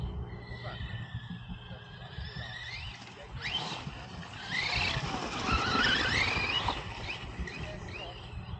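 Brakes squeal during a test run of an FMS El Bandito vehicle. A high, wavering screech rises above engine noise and skidding, peaking loudly midway before fading, with someone talking quietly at times.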